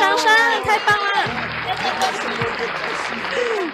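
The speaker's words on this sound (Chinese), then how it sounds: "掌声掌声" Audience applause at a stage show, a crowd clapping steadily and brightly while excited voices and a host's speech carry over the top throughout.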